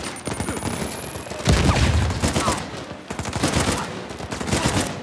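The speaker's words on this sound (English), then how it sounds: "I killed him with blind fire" Blind fire in the video game Uncharted 4, heard as loud, dense bursts of gunfire crackling almost without pause, with a heavy boom early on amid the continuous shooting.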